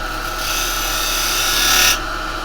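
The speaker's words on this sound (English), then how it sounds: "to do your tenon, you might find it a bit awkward with a round tool" A carbide tool cutting a dovetailed tenon in Zebrano wood on a lathe, a short steady rasping scrape over the motor's hum, swelling slightly louder just before it stops.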